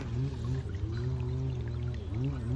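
Water pours and gurgles steadily in a continuous low rushing stream, close by and fairly loud throughout.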